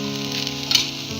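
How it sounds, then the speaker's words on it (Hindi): Poppy seeds dry-roast in a pan with a continuous close hiss and a single sharp pop partway through. "देखिए व्यूअर्स, इट्स पॉपिंग, आपको आवाज़ आ रही होगी पॉप होने की"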